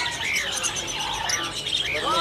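Caged birds at a bird market kiosk twitter and chirp in quick overlapping calls, a busy close chorus of high tweets over a hissy background.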